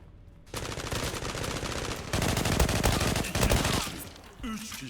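Rapid AK-47 automatic fire in the online shooter Zula, loud continuous bursts rattling close by, broken by short pauses and a final burst that trails off.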